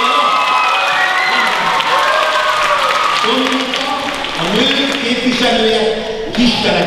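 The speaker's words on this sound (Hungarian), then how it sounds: "Tapsoljátok meg Dominikát!" An audience claps and cheers for a woman named Dominika on stage at a local TV event, steady applause with shouts and children's voices mixed in, while a host talks over the crowd.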